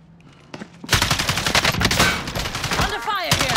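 Rapid automatic gunfire in the Call of Duty Modern Warfare Warzone video game, a dense burst of close, loud shots lasting a few seconds with whizzing ricochet effects near the end.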